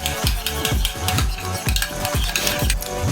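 A spoon stirs a sticky glaze of honey, ketchup, mustard, salt, cracked pepper and Tabasco in a bowl, making loud, close, evenly paced swishing strokes that repeat rhythmically without any talking.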